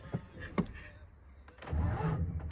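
A vehicle engine with two dead batteries is cranked in short attempts that stutter and fail to catch, with a faint voice now and then between bursts.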